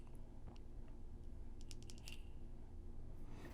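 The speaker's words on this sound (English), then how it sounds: "simply click your button 3 times" Button clicks on a Geekvape Aegis Legend waterproof box vape mod, a quick run of small, faint, close clicks heard in a quiet room.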